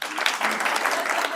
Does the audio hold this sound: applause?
yes